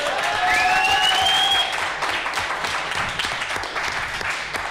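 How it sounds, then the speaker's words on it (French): An expo stage audience bursts into applause for a performer: a thick wash of clapping with a couple of shrill whistles at the start, then steady, slightly thinner clapping that continues to the end. "on va commencer tout de suite avec un tonnerre d'applaudissements"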